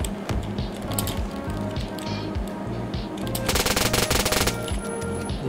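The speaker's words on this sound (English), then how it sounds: "Did you not notice the man shooting 19 bullets at you, bro?" Automatic gunfire in the Phantom Forces shooter game, with bursts of rapid shots throughout and a denser, louder volley of fire in the second half over steady game sound.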